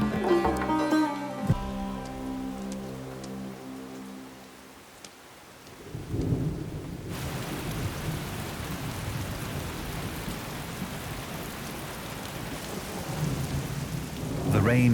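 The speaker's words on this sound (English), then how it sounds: "The rain runs off the mountains, building momentum as it descends to the valley floor." A mountain thunderstorm with heavy rain: a long, rolling peal of thunder fades out, then dense, loud rainfall hisses steadily as another low rumble builds toward the end.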